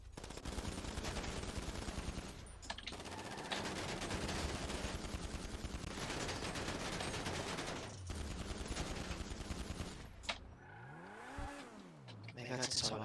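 Video game gunfire crackles in dense, sustained bursts with vehicle engine revving mixed in, loud and continuous for most of the stretch, ending with a rising and falling engine sweep; voices talk at times.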